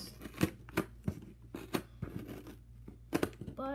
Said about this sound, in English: so just gotta open this up with some scissors